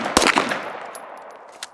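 A handgun shot at a target during a paced shooting drill gives a sharp crack with a ringing metallic clang, followed by fainter pings and a last light tap.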